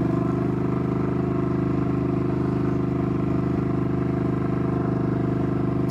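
A 2022 Ducati Scrambler motorcycle engine drones steadily while riding, a loud, constant low rumble with unbroken exhaust note and wind noise throughout.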